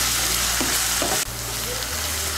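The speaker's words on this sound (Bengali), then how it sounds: "আলুটাকে তেলের সঙ্গে মিশিয়ে নেব। মিশিয়ে নিয়ে একটু ভেজে নেব।" Cut potatoes frying in oil for a vegetable chire pulao, a loud, continuous sizzle with a couple of soft scraping stirs and a brief dip midway, no talking.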